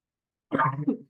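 A single close, throaty cough in an otherwise silent moment, with a brief rough catch at the end.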